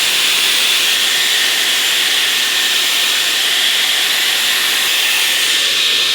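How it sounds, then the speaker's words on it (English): A Dyson Airwrap hair styler blows a loud, continuous airy hiss at close range while curling curly hair, steady with no talk. "Let's start with the Dyson this time, and let's do some curls on the Dyson side."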